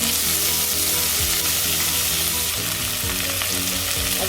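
Ground onions sizzle in hot oil in a pan for potato peas gravy, a steady close crackle and hiss as they are stirred and browned, heard alone without talk.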